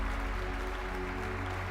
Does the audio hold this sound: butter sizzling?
no